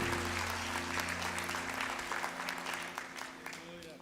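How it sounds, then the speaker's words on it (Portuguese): A church congregation claps loudly during a worship service, with a steady musical drone underneath. The applause gradually eases toward the end. "Aplauda ao Jesus Salvador."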